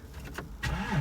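A VW Touareg 3.0 V6 is started, with brief cranking followed by the engine catching and rising into a low rumble; short and fairly quiet.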